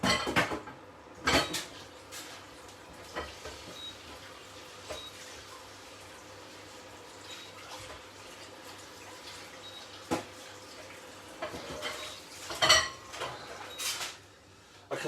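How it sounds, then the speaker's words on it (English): A frying pan is washed out in a kitchen sink, with intermittent clanks and knocks of metal against the basin and soft running-water wash between them, fairly quiet and without speech. "Let's wash this pan out."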